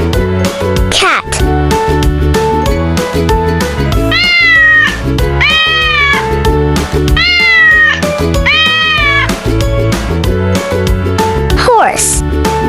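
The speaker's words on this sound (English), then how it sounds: "cat." A cat meows several times in short, rising and falling calls, clear and close, over an ongoing music bed with a brief slide-whistle-like sweep at the start and end.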